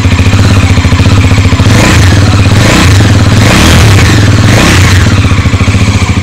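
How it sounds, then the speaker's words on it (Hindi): A 2024 Bajaj Pulsar NS400Z motorcycle engine runs loudly and steadily up close, its deep, throbbing exhaust note pulsing with a few swells as the throttle rises and falls. "यहाँ पे आप सुन पा रहे हैं इसका एग्जॉस्ट नोट"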